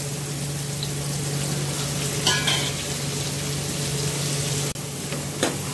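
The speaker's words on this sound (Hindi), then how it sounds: "पांच मिनट इसको अच्छी तरह से ऐसे भून लेंगे, फ्राई कर लेंगे।" Raw mango pieces sizzle in a pan with turmeric as they are fried and stirred, a constant moderate crackle with a couple of brief scraping strokes and a small knock, no voices.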